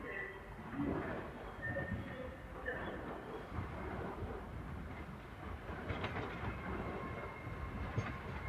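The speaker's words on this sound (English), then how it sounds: "now arriving is the 1047 Avanti West Coast service from London Euston to Liverpool Lime Street" An Avanti West Coast train from London Euston to Liverpool Lime Street pulling into Crewe station, a steady rumble of wheels and engine under a station announcement voice throughout.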